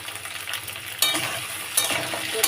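Crabs and potatoes frying together in a pan, with a dense crackling sizzle broken by a couple of sharp stirring clatters.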